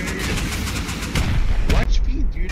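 Rocket launches and explosive blasts during a base raid in the survival game Rust, loud and booming in close succession, with players talking over the action.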